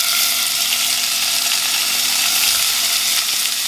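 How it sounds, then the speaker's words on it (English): Shrimp sautéing in about half a tablespoon of olive oil for Shanghai stir-fry noodles, a loud, steady, close sizzle that holds evenly throughout. "So the shrimp should take about 2 to 3 minutes to fry or saute."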